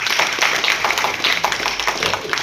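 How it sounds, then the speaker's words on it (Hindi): An audience claps for donors at a Brahma Kumaris centre inauguration in Indore: steady, dense clapping from many hands with a quick, even rhythm, fairly close and loud throughout. "इसमें सभी सहयोगी दानदाताओं के लिए ताली बजा दीजिए"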